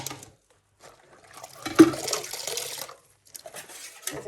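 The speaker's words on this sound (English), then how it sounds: "I'll give the bottle brush a rinse." A bottle brush is rinsed under running tap water in soapy kitchen dishwater, with an intermittent splashing gush that swells in the middle and returns faintly after a short pause.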